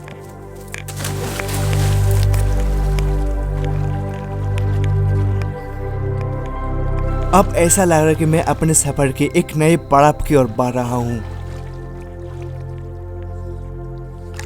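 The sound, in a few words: flowing river water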